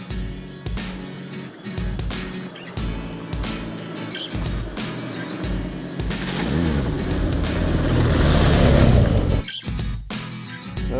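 A BMW R1200 GS Adventure motorcycle riding off-road, its engine revving and rising through gears with bumps and clatter, building louder toward the end before a brief drop and pickup.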